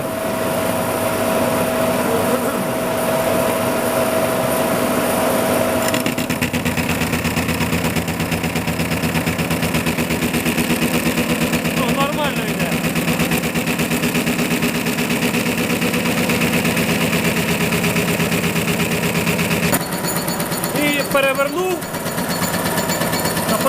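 Machine tool cutting extruder knives at a feed of 100, a steady loud mechanical drone and whine running continuously throughout, with a shift in pitch partway and brief scraping accents near the end.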